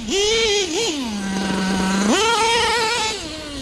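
An LST engine running lean with major carburetor problems, a loud close buzzing drone that dips and rises in pitch, revving up again near the end, alone with no talk.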